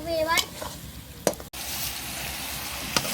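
Chicken with ginger-garlic paste and chili frying in a pan, a steady sizzle broken by a few sharp scrapes and clinks of stirring, close and moderately loud, with a short burst of speech-like sound near the start.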